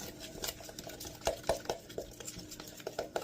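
Crab sushi bake ingredients are mixed together with lemon juice, giving soft repeated scrapes and light clicks of a utensil against a bowl, quiet and close with no speech.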